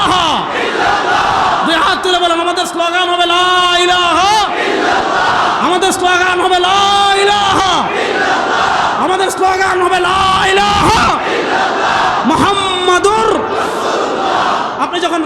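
A large crowd chants the Islamic slogan La ilaha illallah together in loud, sustained unison, with repeated rising calls filling the whole stretch at a steady rhythm.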